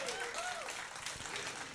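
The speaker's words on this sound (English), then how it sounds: "Give yourselves a huge round of applause." Cruise show audience applauding themselves in a brief burst of steady clapping that runs the whole moment, with a few whoops or voices mixed into the crowd noise.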